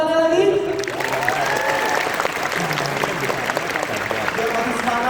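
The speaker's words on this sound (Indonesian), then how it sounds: "Tapi boleh kita tepuk tangannya lagi?" Audience applause at a national youth conference hall, steady dense clapping sustained throughout, loud and close, with crowd noise mixed in.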